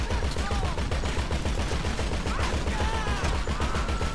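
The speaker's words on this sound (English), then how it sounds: "They're shooting me to death" Rapid video game gunfire from enemies shooting at the player, a dense run of automatic shots that continues steadily for the whole stretch, loud and close, with faint speech-like sounds mixed in.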